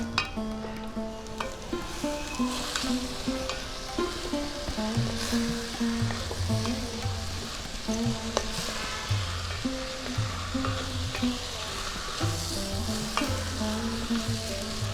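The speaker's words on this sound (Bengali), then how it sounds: "চাল এবং ডালটা সমস্ত মশলার সঙ্গে একটু ভাজা ভাজা করে নিচ্ছি।" Rice and moong dal fry with spices in a pot for a festive khichuri, a steady close sizzle with repeated scraping stirs throughout, no voices.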